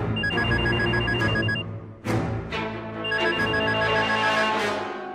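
A telephone rings loudly in a domestic TV drama scene, two bursts of electronic trilling bell tones separated by a short pause, with music-like ambience beneath and no speech over the rings.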